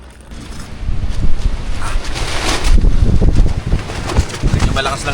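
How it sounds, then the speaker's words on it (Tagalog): Strong wind at a cold mountain campsite on Mt. Banoy, loud gusting roar buffeting close by in surging waves for several seconds, with no talk over it. "Medyo malakas lang talaga yung hangin dito."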